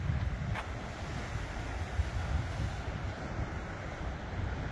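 Sea waves at Cala Cristal, a steady broad wash of surf mixed with wind noise on the microphone, continuous and fairly loud with no voices.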